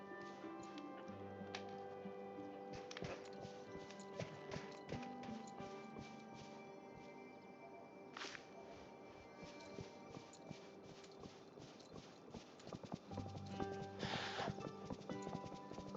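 Horse hooves clip-clopping steadily while riding across a ranch in a farming video game, a continuous rhythmic patter of steps over ambient game music, with occasional brighter clatters throughout.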